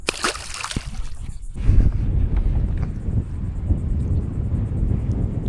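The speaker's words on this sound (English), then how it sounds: "as you can tell by the wind, it's blowing hard" Strong wind blows hard across the Mosquito Lagoon, buffeting as a steady, close rumbling roar with gusty surges and a faint slosh of water under it.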